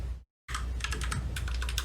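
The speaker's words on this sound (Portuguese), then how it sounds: "Opa, estava digitando errado." Rapid typing on a computer keyboard while working on a Discord bot in JavaScript: a steady run of close, crisp key clicks after a brief silent gap, with no talk.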